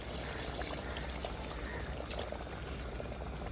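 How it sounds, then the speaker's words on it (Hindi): Water is poured into a cooking pot of potatoes, making a soft, steady splashing stream that runs quietly and unbroken for a few seconds. "अब हम इसमें ऐड करेंगे पानी।"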